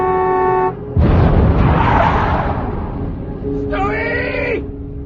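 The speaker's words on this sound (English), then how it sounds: "I started to blow my horn" Car horn blaring in a radio drama, a steady tone that breaks off, a loud rush of noise, then a second honk with a wavering pitch, all close and loud.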